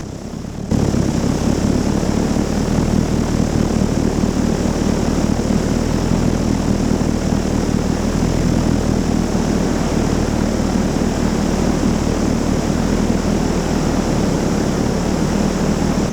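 A Fokker D8 replica plane's propeller engine drones steadily in flight, a loud, continuous close-up roar with no talk, starting after a brief quiet moment.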